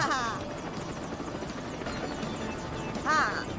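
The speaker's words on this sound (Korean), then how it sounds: "헬리콥터라면 물 위를 날 수 있을 거야." A cartoon helicopter's steady rotor drone fills the clip at moderate loudness, with cartoonish whooshing swoops at the start and near the end.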